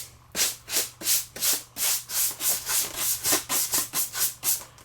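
Dry brush dragged over a Halloween prop in steady back-and-forth strokes, about fourteen soft scratchy rubs in a regular rhythm, close and alone against a faint low hum.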